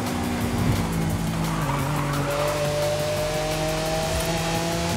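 Lamborghini Aventador driving and drifting in Forza Horizon 5, a loud engine roar under sustained tire squeal and skidding, close and continuous throughout.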